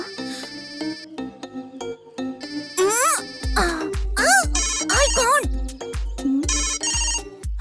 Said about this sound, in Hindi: अपने फोन पर मैंने फोन किया है